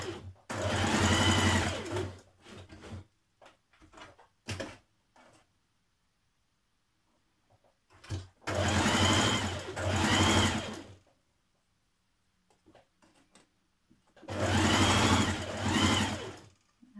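A sewing machine stitches a 1 cm seam around the curved edge of a shirt dress collar, running in three long loud bursts with short quiet pauses and faint handling noises between.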